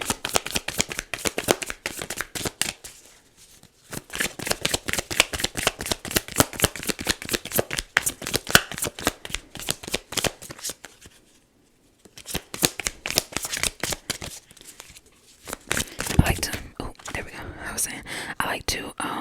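Tarot cards are shuffled in rapid, crisp bursts of riffling clicks, pausing briefly between rounds, close to the microphone with soft whispering at times.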